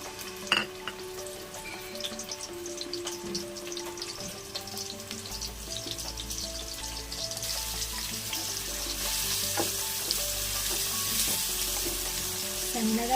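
Sliced onions sizzling in hot oil for a Rayalaseema-style fish curry, a soft steady crackle that swells as the onions hit the pan, with occasional stirring clinks and no talk.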